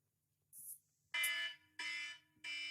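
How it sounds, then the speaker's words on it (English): A loud electronic alarm serves as a podcast timer, giving three separate bursts of about half a second each after a short high beep, sounding up close over quiet room tone. "When the alarm goes, which will sound something like this,"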